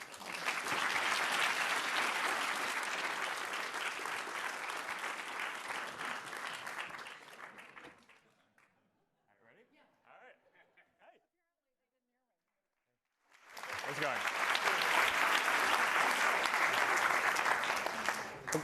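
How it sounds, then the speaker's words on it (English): Audience applause fills a hall at a Facebook news tab unveiling, with steady, dense clapping for about eight seconds, a quiet pause, then a second loud burst of applause. "We don't come out for a single round of applause."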